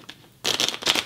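A deck of cards is shuffled in one quick riffle, a crisp close fluttering burst of about a second after a brief pause.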